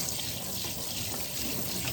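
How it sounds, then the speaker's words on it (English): A kitchen faucet runs steadily after a cleaning, a continuous close hiss of flowing water filling the whole clip with no voices. "turn on the faucet and rinse off the surface dirt"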